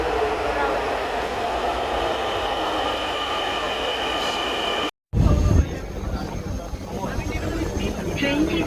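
Crowded metro rail station in Dhaka during office hours, with a steady rumbling drone of a train, a brief cut, then louder rolling rail noise and hum after it resumes.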